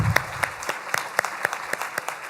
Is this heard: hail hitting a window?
no